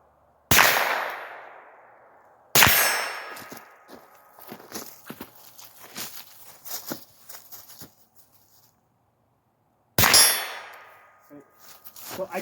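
Rifle fired at night at targets through a Primary Arms 5-25×56 scope: three sharp, ringing shots spaced apart, each decaying slowly, with light clanks and shuffling between them.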